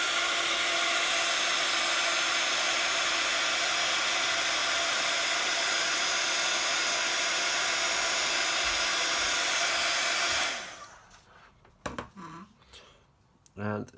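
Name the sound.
heat tool heat setting watercolour ink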